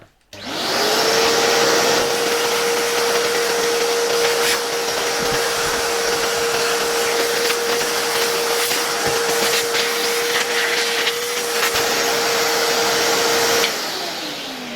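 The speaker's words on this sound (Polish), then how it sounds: "Wziąłem sobie po prostu mój roboczy odkurzacz warsztatowy" A modern workshop vacuum cleaner switches on and runs steadily with a loud, even motor whine and rushing airflow for about thirteen seconds, then powers down near the end. No one speaks.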